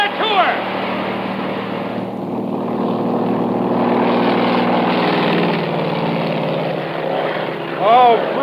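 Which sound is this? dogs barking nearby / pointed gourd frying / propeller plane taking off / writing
propeller plane taking off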